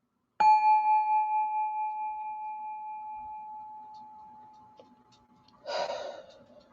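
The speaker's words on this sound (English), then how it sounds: "I need another hit of the bell" A bell struck once during a breathing exercise rings out with a clear, pure tone that slowly fades over several seconds, followed by a soft audible exhale near the end.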